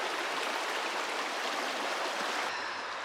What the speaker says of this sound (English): we got a nice soothing creek sound going on